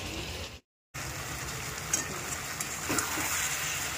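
Chicken is fried and stirred in a pan for a Bengali kosha, with a soft, steady sizzle and occasional light scrapes from the stirring, heard close and fairly quiet after a brief dropout.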